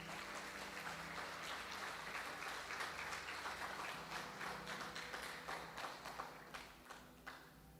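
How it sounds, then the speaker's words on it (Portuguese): A church congregation claps during a Portuguese-language worship service. The dense, fairly steady applause sounds moderately distant, then thins into scattered separate claps toward the end. "Então vamos dar um aplauso ao Senhor."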